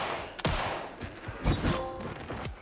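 Gunfire in the video game Alan Wake II: a series of loud shots in irregular, rapid bursts, each with a sharp crack and a short tail, and no talking.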